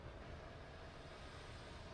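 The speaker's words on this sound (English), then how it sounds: "Just going around town on my train." Train in Infamous Second Son rolling around a city in the game, heard as a quiet, steady low rumble with no distinct clacks, continuous throughout.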